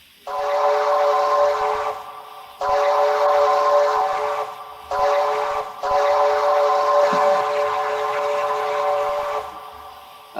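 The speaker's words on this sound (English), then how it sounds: "And here's the whistle sound for it." A QJ steam locomotive whistle in the Trainz video game blows in three long, loud blasts with short breaks between them, with no talking underneath.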